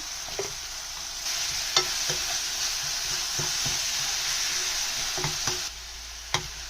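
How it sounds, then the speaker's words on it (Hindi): Potato filling cooking with tomato and onion in a pan gives a continuous bright sizzle, with a few sharp spatula taps and scrapes scattered through, up close and without speech. "उसके बाद इसको हम अच्छे से टमाटर और प्याज में पकाएंगे।"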